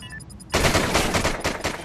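Gunfire from a video game match in Call of Duty: Ghosts, a sudden loud burst of rapid overlapping shots after a half-second of quieter game ambience with faint beeps, continuing densely to the end.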